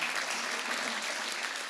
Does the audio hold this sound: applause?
yes